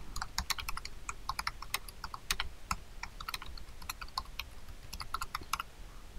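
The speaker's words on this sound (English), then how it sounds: "start typing in the new content" Steady typing on a computer keyboard while editing text in a browser, with rapid, uneven clicking keystrokes close to the listener and no voices.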